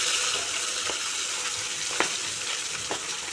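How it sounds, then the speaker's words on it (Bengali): Fish frying in oil on a clay stove gives a steady, close sizzle with scattered small pops and crackles throughout. "এখানে মাছ ভাজা চাপিয়ে দিয়েছি"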